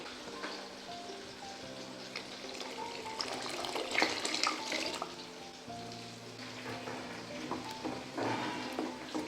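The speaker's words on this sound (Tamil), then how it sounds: "தேங்காய் பாலை ஆட் பண்ணிக்கலாம்." Coconut milk poured into simmering mutton nonbu kanji, a soft steady trickle and gentle bubbling in a pot, close and quiet, with faint clinks and a low background hum.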